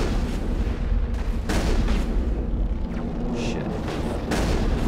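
Repeated gunfire in Mass Effect, loud heavy booming shots coming in quick bursts over a steady battle din, with a brief spoken exclamation.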